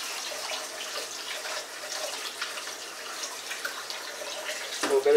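Rice being washed under a running kitchen tap for garlic and onion claypot rice, a steady hiss of flowing water with a brief splashy clatter near the end, no talk.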